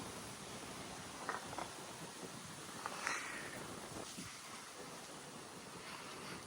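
Steady outdoor wind rush from a light breeze beside the Rostavytsia river on a hot day, continuous and fairly even, with a few faint brief ticks and rustles over it and no talking.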